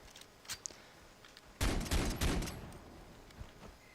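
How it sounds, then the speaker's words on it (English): Desert Eagle (D50) .50 caliber pistol shots in Far Cry 3: a loud close blast with echoing rumble, then a second shot right after, over faint scattered background clicks and no talking. "The D50, obviously the Desert Eagle. This is a very good gun, 50 caliber, bang headshot, that's it."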